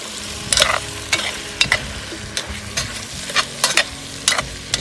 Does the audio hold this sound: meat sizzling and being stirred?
yes